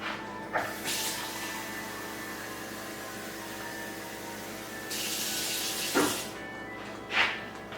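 A cup of water pours into an Instant Pot of chicken noodle soup, a steady splashing stream that goes on for several seconds, with a few louder clinks and splashes near the end and no talk.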